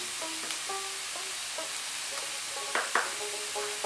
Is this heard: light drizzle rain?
no